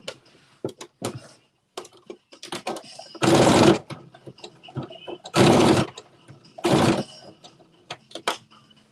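Sewing machine running top stitching on a Simplicity Mimi G. Styles S9463 garment: three loud bursts of stitching, each about half a second, spaced between quieter clicks and handling noises, with no one speaking.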